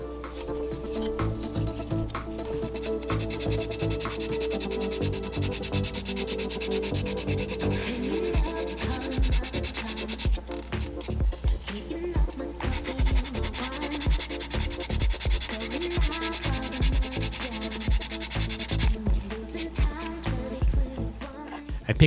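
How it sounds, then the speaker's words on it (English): A foam sanding pad works over a plastic model car body being prepped for NASCAR wrap decals, producing long stretches of close, gritty scratching with rapid back-and-forth strokes and brief pauses, no voices. "a sanding stick and a foam sanding pad will take care of the rest."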